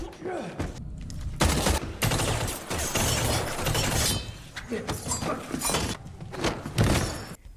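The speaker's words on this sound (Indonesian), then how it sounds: "Kemudian datanglah Nobody yang menembaki mereka berdua" Gunfire in a fight scene from the film John Wick: Chapter 4, loud dense bursts of rapid shots mixed with shattering glass and impacts, continuous over several seconds with brief lulls.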